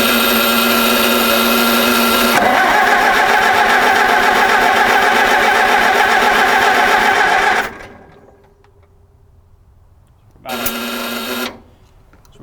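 An Oliver 550 tractor engine, carburetor removed, cranks over on the starter during a compression test, a loud, steady churning run of several seconds that stops, then a brief second burst after a pause.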